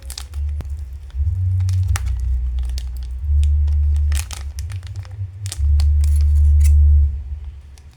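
A plastic sachet packet gripped in a metal mosquito coil stand is torn open, giving close, loud crinkling and ripping in several bursts over a low rumbling background, with no talking.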